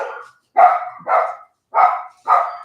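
Several dogs bark in quick bursts, four or five loud barks spaced about half a second apart, close by and with no talking.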